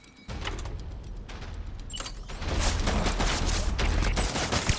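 A stun bomb goes off in Death Stranding, a sudden burst followed by a harsh, loud crackling rush that swells and stays dense for several seconds, close and without talk.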